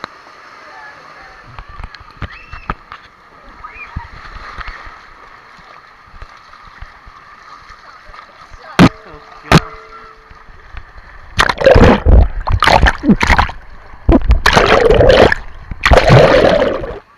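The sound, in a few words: water splashing in an outdoor swimming pool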